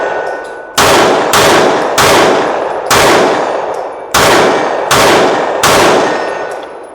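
A Steyr M9A2 pistol is fired in a string of seven loud, sharp shots at a fairly even pace, each with a metallic ring that decays before the next.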